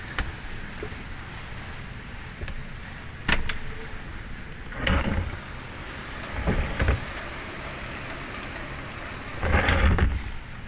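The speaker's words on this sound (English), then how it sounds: "Hurricane Harvey outside." Heavy rain from Hurricane Harvey pours steadily on a docked boat while gusts and rumbles of thunder swell up several times, with bursts of louder wind-driven noise.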